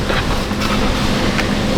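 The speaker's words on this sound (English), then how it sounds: "It's very windy." Strong wind buffeting the microphone, a loud continuous roaring rumble with no voices audible.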